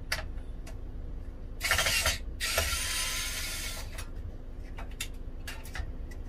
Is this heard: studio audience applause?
no